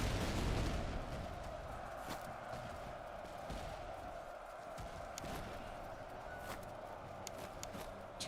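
Massed musket volleys from recruit infantry in the Master of Command strategy game, a dense continuous crackle of gunfire with sharper shots standing out over a steady battlefield din.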